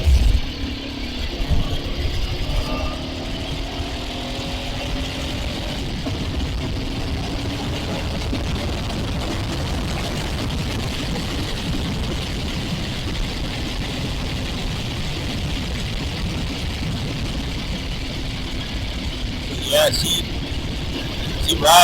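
Suzuki TL1000R motorcycle ridden in first gear at low revs, a steady rumbling engine drone with rushing wind noise over the whole stretch, and a rider speaking over it.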